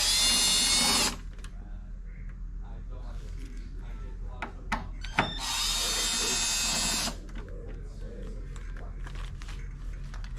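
A power driver with a T25 Torx bit whines through two loud bursts, removing the four windshield screws on a 2024 Harley-Davidson Street Glide, with clicks and handling noises in between.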